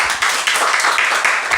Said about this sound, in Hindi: जोरदार तालियां मास के लिए